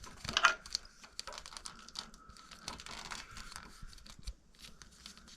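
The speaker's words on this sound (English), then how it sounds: "Let's cut this so I can have better access." Scissors or cutters snip through material while a headlight is replaced on a 1985 Harley-Davidson Softail, giving a quick burst of close crisp cuts followed by lighter clicks and rustling handling noises.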